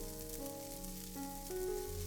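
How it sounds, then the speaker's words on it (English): Okra sizzles steadily in a hot pan, a continuous frying hiss over a soft background of sustained musical tones. "The bhindi is still sizzling."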